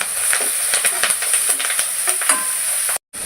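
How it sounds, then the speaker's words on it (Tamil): Curry leaves sauté in hot oil with masala in a pan for village-style Chettinad chicken uppukari, giving a steady close sizzle and crackle with small pops that cuts out abruptly near the end. "இந்த கருவேப்பிலையும் சேர்த்துக்கலாம். கொஞ்சம் லைட்டாக வதக்கிட்டு,"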